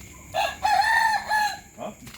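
A rooster crows nearby, one loud drawn-out call that rises and falls in several parts, heard clearly over faint background noise.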